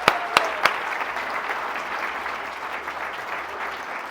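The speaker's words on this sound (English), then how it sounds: "Give them a big round of applause" An audience at a cooking demonstration event applauds, opening with a few sharp, close claps before settling into steady, dense clapping from the crowd, with no talk over it.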